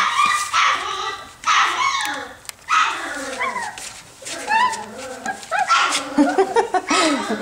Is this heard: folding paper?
no